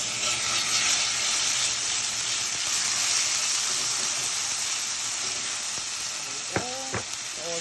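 Sofrito fries in a hot pan for rice, giving a steady, close sizzling hiss throughout, with a couple of brief tonal squeaks near the end.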